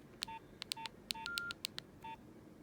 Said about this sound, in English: Can you hear that? Yeah, that's the Nokia startup.